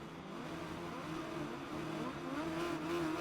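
Race car engine in a Brands Hatch GP racing video game, holding a steady loud drone that climbs in pitch toward the end as the revs rise, with no talk over it.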